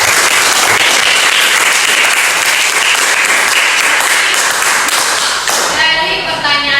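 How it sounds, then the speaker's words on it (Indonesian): A classroom applauds, dense steady clapping from many hands, loud and close, fading out near the end as it gives way to quieter sounds. "Kita beri aplaus dulu."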